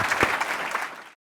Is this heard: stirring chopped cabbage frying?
no